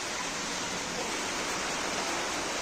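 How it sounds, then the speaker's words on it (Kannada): Heavy rain pours steadily outdoors in the wet countryside, a dense, even wash of hiss that stays loud and unbroken with no gaps or speech. "ನೋಡಿ ಗೈಸ್, ಜೋರು ಮಳೆ ಬರ್ತಾ ಉಂಟು."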